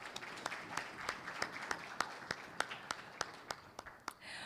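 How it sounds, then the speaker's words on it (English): An audience at a stock exchange listing ceremony for BharatRohan Airborne Innovations at the BSE claps steadily, a sustained round of applause with a few sharp individual claps standing out, ending abruptly. "that calls for a tremendous round of applause"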